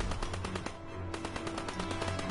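Machine-gun fire in the World War II shooter Call of Duty WWII comes as loud, rapid, closely spaced bursts of shots, with a brief pause midway before the firing resumes.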